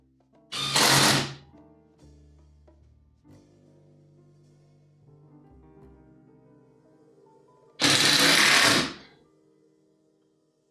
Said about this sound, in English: Now I just gotta do a bunch of high intensity screw zipping